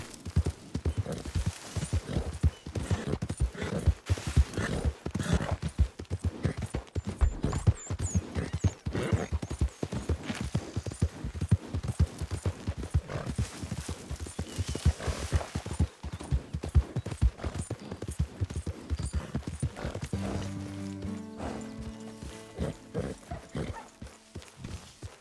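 Rapid horse hoof clip-clops from the video game Red Dead Redemption 2 clatter continuously for a long stretch, busy and close, with a brief tonal whinny-like sound near the end.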